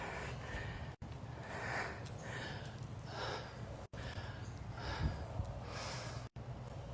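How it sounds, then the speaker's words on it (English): Heavy breathing from someone exerting through a squat workout, with forceful, close breaths repeating in an uneven rhythm over steady background noise and no talking. "I love that heavy breathing"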